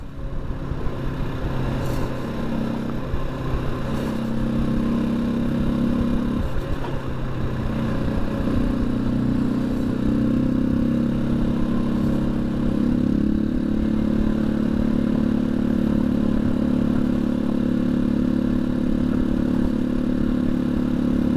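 Janus Halcyon 250 motorcycle on the road to Purgatory, Michigan, its single-cylinder engine droning steadily with shifting pitch as it accelerates, under constant wind rush and light clatter, close and continuous with no talking.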